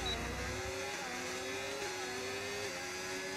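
A Formula 1 race car engine in the racing game F1 25 drones at a steady high pitch with slight rises and dips, heard continuously and fairly loud with no talk over it.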